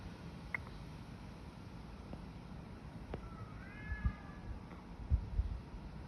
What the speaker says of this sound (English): You can also hear other cats meowing